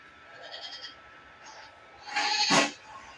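A goat bleats during a video game fight, a man attacking a building with the animal, with a louder, harsher bleat peaking near the end over faint background game ambience.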